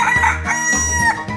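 A rooster crows in a 3D animal video game, a loud, close cock-a-doodle-doo with several strained, rising and falling syllables and no talking.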